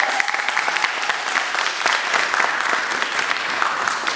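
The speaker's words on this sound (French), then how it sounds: "Elle mérite encore plus d'acclamations." An audience at a Togolese cultural celebration held in Morocco claps loudly and steadily, a dense, sustained round of applause filling the hall for several seconds without pause.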